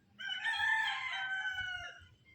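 A human voice mimics a rooster's crow in a playful vocal challenge, one loud sustained crowing call lasting about two seconds before trailing off, close and alone.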